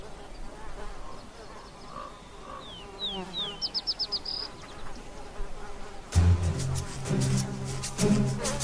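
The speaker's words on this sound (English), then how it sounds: "until biting flies discover the grass-covered carrion he's using for a pillow" Biting flies buzz around a resting grizzly bear lying on grass-covered carrion, their whine rising and fading as they pass close, with a short pulsing burst midway and louder, busier buzzing toward the end.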